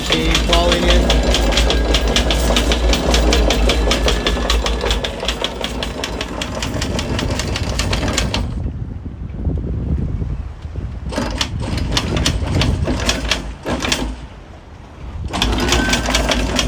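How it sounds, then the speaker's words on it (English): A boat's electric anchor windlass hauls up the anchor while anchored off Andratx, Mallorca, a loud, steady rhythmic mechanical clatter of chain running in, which briefly drops away and then resumes in short bursts. "You press the button and it lifts the anchor. Chain falling in."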